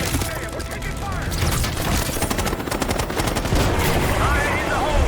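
Sustained gunfire from Call of Duty Black Ops 6, with dense automatic bursts and sharp cracks rattling loudly and continuously through the whole stretch, layered with chaotic battle effects.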